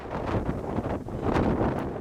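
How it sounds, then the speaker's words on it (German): Strong, gusty storm wind buffets the microphone on a rock climbing face in a continuous roaring rush, with surges and brief dips, loud and close. "Es stürmt und es windet"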